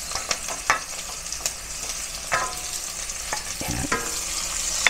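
Pork, garlic and onion sauté in a hot pan, a loud continuous frying crackle broken by sharp scraping stirs of a spatula at irregular intervals, close and with no voices.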